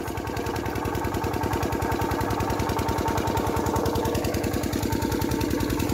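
A farm engine pump filling a field with water, chugging steadily in a fast, even, close-up rhythm that runs without a break and with no talking.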